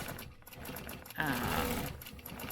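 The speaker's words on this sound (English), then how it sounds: "I'm going to go ahead and start stitching the design" Sewing machine stitching a small, randomly shaped back-and-forth wedge design, a steady close whirring hum that grows louder and busier partway through and runs continuously with no talk.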